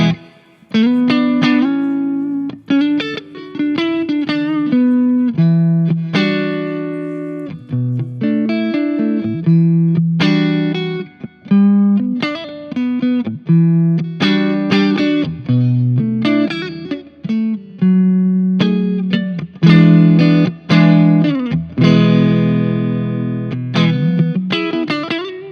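Electric guitar played through a Tone King Royalist amp with reverb, picked chords and single notes ringing out in phrases with short gaps, close and fairly loud, no talking.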